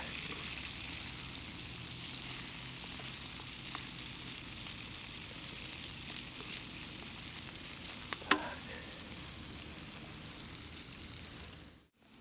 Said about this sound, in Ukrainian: Починаємо картопельку обсмажувати.